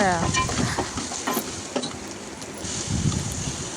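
Onion pieces fry in hot oil ahead of mutton liver, giving a continuous close sizzle with occasional scraping stirs and a faint tonal whine at the start.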